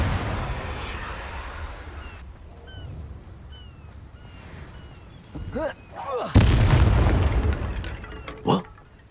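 Explosive Confringo spell blasts in the wizarding game Hogwarts Legacy, a sharp booming burst followed by a smaller thump, with a voice speaking over the surrounding game ambience.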